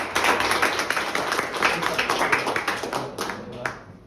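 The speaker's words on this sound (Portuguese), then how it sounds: "Galera, palmas para todos eles, por favor." A small group claps for participants after an exercise, a close, brisk burst of overlapping handclaps that thins out into a few scattered claps toward the end.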